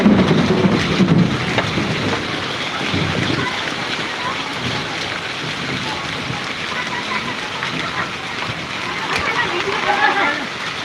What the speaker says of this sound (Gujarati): કરા સાથે જબરજસ્ત વરસાદ